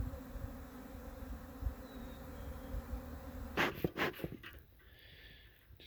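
A swarm of honeybees at a hive in mid-April makes a dense, continuous buzz close to the microphone, joined near the end by a few sharp knocks and rustling handling noises.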